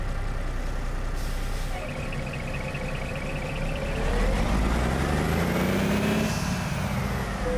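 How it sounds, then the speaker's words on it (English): An American Truck Simulator truck is run up to speed and braked hard, with a loud continuous engine drone, a hiss of air brakes, and a rising then falling engine tone as the truck slows. "we'll just get it up to speed here and hit the brakes and see what it does"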